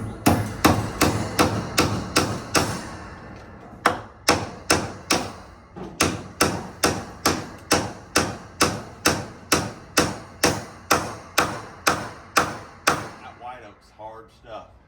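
Staples are hammered in to fix wire mesh fencing in an old barn being renovated into horse stalls, with loud, close, evenly spaced blows in a long steady run and a short pause near the middle.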